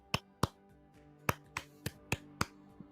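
A handful of sharp, separate claps in an uneven rhythm, about eight crisp hits over a few seconds, moderately close and otherwise quiet, with no talking.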